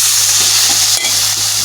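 Marinated chicken hits a hot pan and sizzles loudly and steadily, with a brief knock partway through and no voices.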